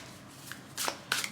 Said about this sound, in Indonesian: Kita akan shuffle bareng-bareng ya, atau saya shuffle di depan kamera aja.